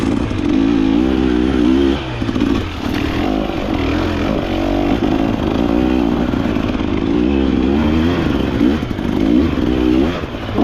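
A KTM motorcycle is ridden off-road, its engine loud and close with a rough, rattling drone that rises and dips as the throttle opens and eases, alongside clattering and scraping, with no voices.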